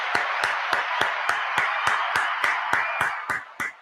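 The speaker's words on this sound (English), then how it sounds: "I'm giving Steve another round of applause." One person claps in a steady, evenly spaced rhythm, about three sharp claps per second, close and distinct over a constant hiss of background noise.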